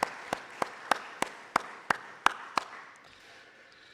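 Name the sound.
applause in a church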